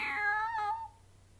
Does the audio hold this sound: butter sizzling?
no